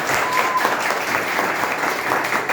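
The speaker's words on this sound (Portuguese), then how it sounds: "merece uma salva de palmas." An audience at a Christmas gathering applauds a guitarist and singer with loud, continuous clapping that stays even throughout, close and filling the space with no speech on top.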